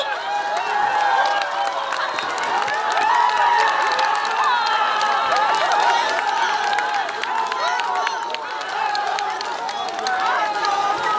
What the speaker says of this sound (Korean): 큰 박수로 해주십시오